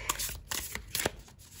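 Tarot cards are shuffled by hand close by, several quick riffling bursts with short pauses between them, with no talk.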